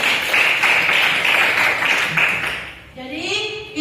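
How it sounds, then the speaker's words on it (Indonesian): A classroom of students claps together in a dense, steady burst of applause that fades out, followed by a brief spoken voice at the end. "tepuk tangan dulu buat kalian semua"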